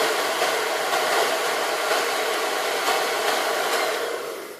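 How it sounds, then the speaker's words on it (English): Blow dryer running close by with a steady loud whooshing roar, alone without talk, tapering off as it switches off near the end. "Blow dryer."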